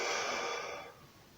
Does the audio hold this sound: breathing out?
yes